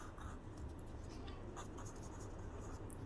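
A pen or marker scratching on a board or paper during a primary-school maths lesson, with soft continuous strokes and short pauses over low room noise and no talking.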